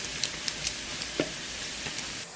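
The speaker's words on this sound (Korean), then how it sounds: "다진 고기는 덩어리지지 않게 풀어주면서 노릇노릇할 때까지 익혀줄게요" Minced meat sizzles steadily in a hot pan while being broken apart and browned, a constant fry hiss broken by a few light clicks of a utensil stirring.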